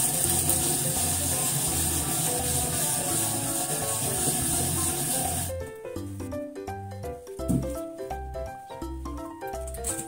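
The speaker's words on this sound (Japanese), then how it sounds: "長芋ですけど、これ皮を剥いてすりおろしますね" Peeled Chinese yam (nagaimo) is rubbed against a grater with a steady, rough scraping rhythm, followed by lighter, wetter scraping as the grating continues in a kitchen.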